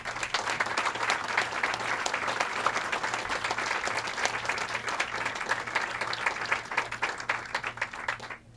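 An audience at a Politics and Prose bookstore event applauds to welcome author Manal Al-Sharif, with dense, sustained clapping from a crowd at moderate distance that tapers off at the end.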